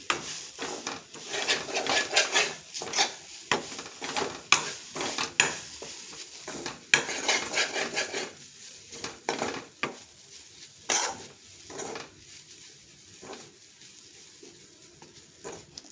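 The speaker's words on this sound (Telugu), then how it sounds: "ఇందులోనే కొంచెం పసుపు యాడ్ చేసుకోవాలన్నమాట. పచ్చివాసన పోయే వరకు వేపుకోవాలి." Turmeric is stirred and fried in a pan while making coconut and raw mango chutney, with repeated scraping and clinking of a utensil against the pan over a faint sizzle.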